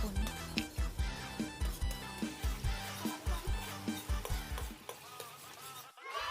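Vegetables, including bok choy, sizzle in a pot while a utensil stirs and scrapes in a steady repeating rhythm, ending with a short clatter.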